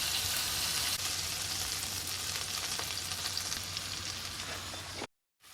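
Butter sizzles steadily in a hot pan with garlic and ginger nearby, a dense close frying crackle holding for about five seconds before cutting out abruptly.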